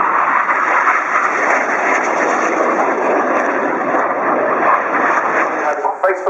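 Red Arrows jet aircraft flying at maximum performance around a tight corner at an air show, a loud, sustained roaring jet rush that stays dense and continuous, slightly shifting near the end.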